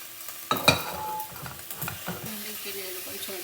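Cardamom and other whole spices dry roasting in a pan for capsicum masala curry, a sharp clatter as they drop in, then light rattling and scraping while being stirred, with quiet background sounds.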